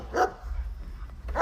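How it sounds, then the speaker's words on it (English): Dogs bark outdoors: one loud bark, a stretch of low background rumble, then another bark starting just as the moment ends. "Beautiful dogs."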